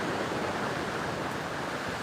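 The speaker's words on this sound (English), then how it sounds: "I'm pretty confident you can hear the waves" Ocean waves at Surin Beach, Phuket, Thailand, make a continuous, dense roaring wash with no distinct breaks, captured on a phone microphone.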